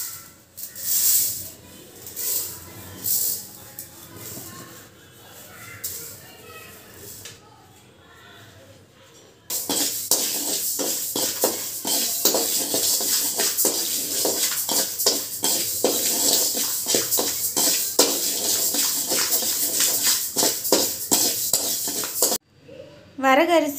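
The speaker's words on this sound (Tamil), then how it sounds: "அதுக்கப்புறம் வரகரிசியை நல்லா வறுத்துக்கலாங்க." Kodo millet dry-roasting in a pan at home, a steady dense sizzling rustle of grains stirred against metal, quieter scraping first and then continuous louder crackle for most of the stretch.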